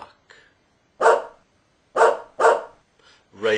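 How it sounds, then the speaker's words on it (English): A dog barks four times in short, sharp bursts, fairly close, with soft yips before and between the louder barks. "Dogs bark."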